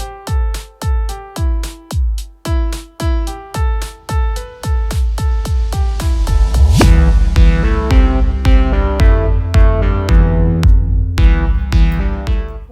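Music track in an editor with a fade applied: a plucked, evenly pulsed melody alone for the first seven seconds, then a fuller, louder arrangement with steady bass swells in, blending smoothly into it.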